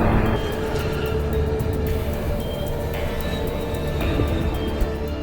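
A freight train in Texas on railway tracks, where it struck a pickup truck stranded across the rails, gives off a steady, loud rumbling roar that holds at a constant level throughout, with no voices.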